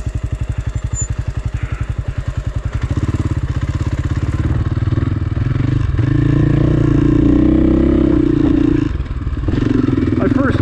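A dirt bike climbs a mountain trail past a big slide area, its single-cylinder engine thumping loud and close, pulsing at low revs and then rising into a steadier drone, with rattles and scrapes over rough ground and a rider's voice mixed in.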